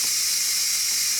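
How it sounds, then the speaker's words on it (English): Steady high-pitched hiss of steam venting from the pressure release valve of a Ninja Foodi pressure cooker after cooking corned beef, loud and continuous with no talking. "the steam is going to go out, and you're going to see the little red button go down"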